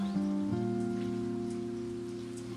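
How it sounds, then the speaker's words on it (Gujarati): Steady rain falls outside a house after a long downpour, a continuous wash of patter with a constant low humming tone running underneath, no voices. "ફાઇનલી ગાઈસ અત્યારે વરસાદ ચાલુ જ છે."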